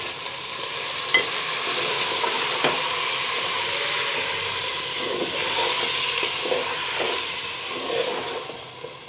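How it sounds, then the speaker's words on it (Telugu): Rice is stirred and fried in ghee with masala, a loud continuous sizzle and hiss with repeated scraping strokes of a spoon against the pan, close up and without talk. "మంచిగా రైస్ ఆ నెయ్యిలో మొత్తం కలపాలి"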